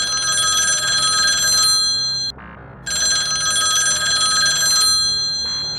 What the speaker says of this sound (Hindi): तभी उनके घर के फोन की घंटी बजी